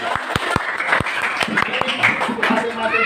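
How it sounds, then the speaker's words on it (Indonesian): A classroom group gives a short burst of hand clapping, several sharp claps at first thinning into scattered claps, with speech from the group running underneath. "Oke ya, tepuk tangan"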